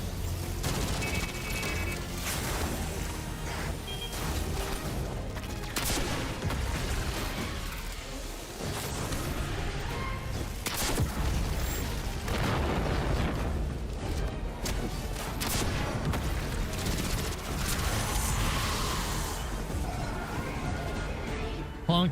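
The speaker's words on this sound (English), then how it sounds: "Clone Commando SMG is so clean." Rapid bursts of Clone Commando SMG gunfire in Destiny 2, with dense, near continuous shooting, impacts and explosions layered throughout, loud and busy with a faint voice at times.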